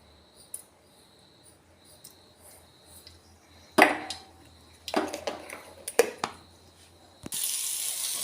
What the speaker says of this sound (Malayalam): ഉള്ളിക്കറിക്ക് ആവശ്യമായ ഓയിൽ ഒഴിച്ച് കൊടുക്കണം. ഇനി ഇതിലേക്ക് നമുക്ക് ശകലം കടുക് ആഡ് ചെയ്ത് കൊടുക്കുക.